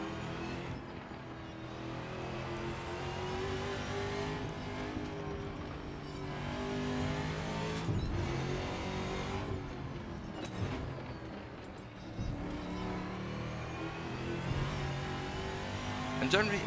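An American V8 Trans Am TA2 race car engine in Assetto Corsa drones steadily close by, its pitch rising and falling through gear changes across the lap while someone talks over it.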